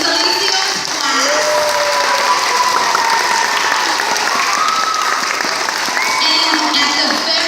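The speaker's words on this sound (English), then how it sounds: "Let's a big round of applause for Mrs." Audience applause after a class performance of Peter Pan, loud continuous clapping with cheering voices and some chatter mixed into the crowd throughout.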